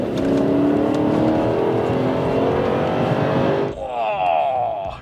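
A 2002 Jaguar X350 XJ8 Sport with its 4.2-litre AJ V8 engine drives hard under load, giving a loud, steady engine drone with rising revs for nearly four seconds, then a sudden drop in level as the car eases off.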